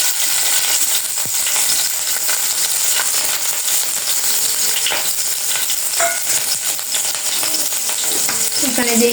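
Green chillies sizzle in hot oil in a wok (kadai), a steady loud frying hiss with occasional stirring clinks and scrapes throughout.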